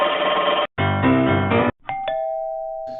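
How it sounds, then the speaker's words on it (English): An X-Sense smart video doorbell plays its chime ringtone: a loud, bright melodic tune of several tones, a short break, a second phrase, then a few clear ringing notes that hang and fade. "You can also change the ringtone right here."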